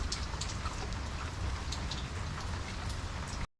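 Rain falls steadily on surfaces on a wet day, a dense hiss with scattered droplet ticks, continuous and fairly close, cutting off abruptly near the end with no talk.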